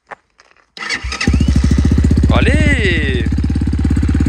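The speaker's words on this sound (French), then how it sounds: "On va essayer de la faire craquer pour la première fois avec 100 ml d'essence." A new motorcycle fires up for the first time on 100 ml of fuel. After a short cranking burst it catches and settles into a loud, close, rapid-pulsing idle with a brief rev. A person calls out briefly just before.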